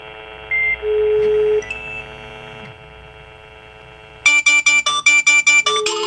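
Phone line ringing on a simulated call to an ITC 4100: repeated short buzzing ring bursts in a regular on-off rhythm, loud and close, following a steady tone with no talk.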